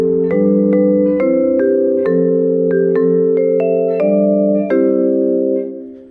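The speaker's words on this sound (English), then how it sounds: "Vibraphone." Vibraphone plays a commercial jingle, a sequence of about ten bright, ringing mallet notes in a steady melodic rhythm, heard loud and alone, with the final chord left to fade out.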